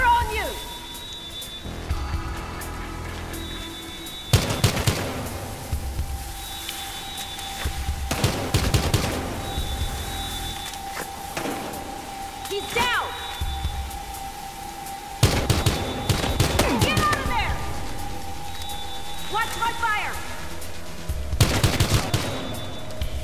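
Bursts of gunfire in Battlefield: Hardline, loud clusters of rapid shots every few seconds over quieter game ambience, while people talk between the volleys.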